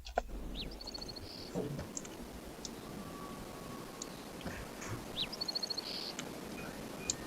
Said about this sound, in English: So in the desert area, definitely you will get some coyotes and some birds.